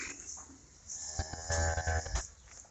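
Cattle moo on a farm on a hot day, several deep, drawn-out lowing calls close by, overlapping in the second half with no talking.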